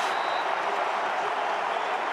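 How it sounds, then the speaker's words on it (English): Syracuse home crowd roaring at a college football game, a loud, unbroken wash of cheering from a large stadium audience sustained across the whole moment. "Syracuse crowd getting into it"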